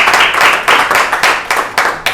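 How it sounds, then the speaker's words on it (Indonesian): A church congregation claps in unison during an Indonesian sermon, with loud, close hand claps in a steady rhythm of about four per second, strongly accented beats repeating for a couple of seconds. "Tepuk tangan dong."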